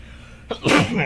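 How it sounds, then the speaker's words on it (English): A single sharp sneeze, a quick intake followed by a loud burst close to the microphone. "that's the first time I've sneezed here on a stream."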